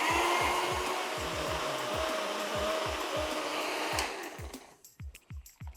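A blender grinds laksa paste with a few tablespoons of oil, its loud steady motor roar running for about four seconds before cutting off, followed by scattered knocks and clatter.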